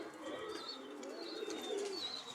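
Hungry pigeons coo softly in a steady low murmur, with faint thin chirps above it, heard close but at low volume throughout.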